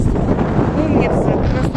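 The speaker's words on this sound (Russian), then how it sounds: "А на мосту такое ветрище." Strong wind roars and buffets a microphone on a bridge by the sea at a hotel in Makadi, a loud, continuous rumble with gusty swells.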